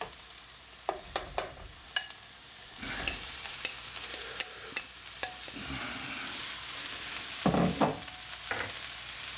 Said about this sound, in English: So then we just fry this up until it goes all brown.